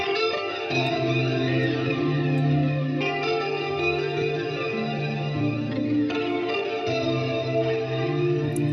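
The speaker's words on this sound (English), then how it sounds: "Now let's bring that reverb up some more." A sustained electronic beat with thick, washing reverb; chords and tones blur into a long spacious tail, shifting every few seconds.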